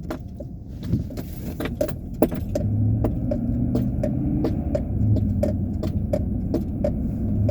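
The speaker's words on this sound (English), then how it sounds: "That noise is just my key ring." Keys on a key ring jangle with bright, repeated metallic clinks over the steady low rumble of a moving 2015 Chevrolet Silverado pickup, close and fairly regular throughout.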